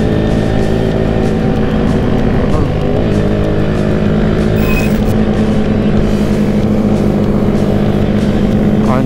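A Honda Supra 250cc motorcycle on a test ride, its engine droning loud and steady with rising revs, wind rushing past, and a rider's voice speaking over it throughout.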